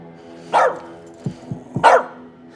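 A dog in the video game As Dusk Falls barks twice, close and loud, with short low grunts in between.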